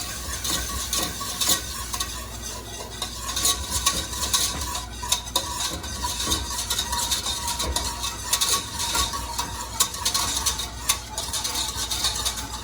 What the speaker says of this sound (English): now we're gonna gradually add our milk, and I'm gonna keep stirring so it all blends together